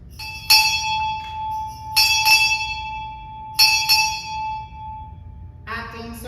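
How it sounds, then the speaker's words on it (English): A ship's bell is struck six times for six bells at a naval change-of-directorship ceremony: three evenly spaced pairs of bright, ringing strikes, each pair sounding together and left to decay, over a low murmur, followed by the start of a spoken announcement. "6 bells."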